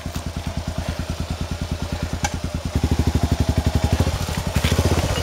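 A Kawasaki KLR motorcycle engine runs close by with a rapid, even thumping beat that quickens and grows louder partway through, as if revved slightly.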